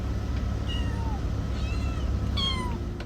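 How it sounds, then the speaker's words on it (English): Several kittens meow in short, high calls, spaced unevenly, above a steady low background hum with no talking. "That's the sound of kittens and puppies getting ready to go on the road trip of their life."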